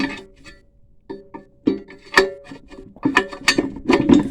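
Steel pins are dropped into outrigger storage on a Harbor Freight trencher, giving a run of sharp metallic clinks and clanks, sparse at first and then quicker and denser.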